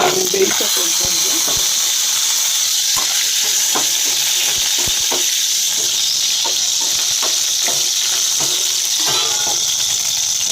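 A spice tempering crackles and sizzles in hot oil, a dense, loud, continuous hiss peppered with sharp pops and spits throughout, while a voice speaks intermittently underneath.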